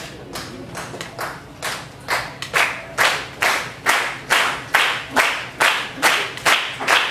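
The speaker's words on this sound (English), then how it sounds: "I'm going to ask you guys to clap like this." Audience clapping in unison to keep time for a song, about a dozen sharp, evenly spaced group claps building in loudness, close and alone with no talk over them.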